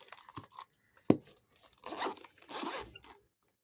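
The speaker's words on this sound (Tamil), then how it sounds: "பாருங்கள், ஜிப்பு கூட பாருங்கள்." A zipper on a red, premium jewel box being run open or closed in a few close, rasping strokes, with crinkling handling noise and a soft thump.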